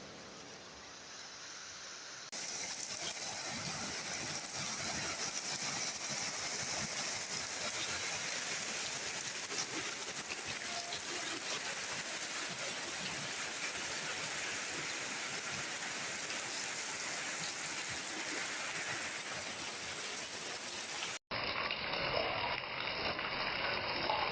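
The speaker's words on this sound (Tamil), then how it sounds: "நல்ல மழை பெய்யுது" Heavy rain pours outside a home, a dense and steady hiss of falling water that starts abruptly and runs unbroken for about twenty seconds before cutting off.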